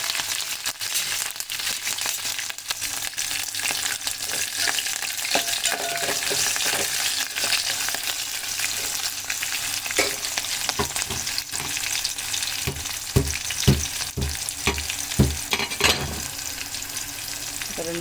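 Green chillies fry in a little hot oil for a tempering, a continuous close sizzle with scattered clicks and scrapes from stirring in the pan.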